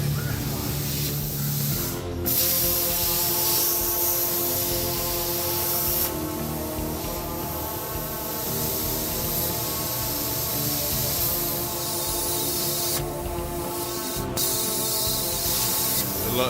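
Plasma cutter slicing a steel back support for a Ducati Monster cafe racer seat, a steady loud hissing spray that runs continuously with a few brief breaks, no talking.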